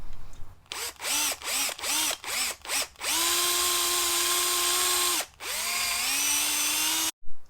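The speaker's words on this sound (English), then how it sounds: "So I'm going to try and drill this out." A power drill with a 12mm bit whirs in several short bursts, then runs in one long steady spin, pauses, and spins again, loud and close, drilling a Ford Fiesta ST gearshift part.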